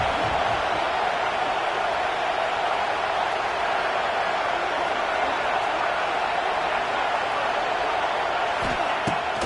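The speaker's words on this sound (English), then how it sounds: "Listen to the crowd energy here in the early going." A steady roar from a large stadium crowd in a college football video game, continuous and loud throughout with no breaks, sounding like broad cheering across a packed arena.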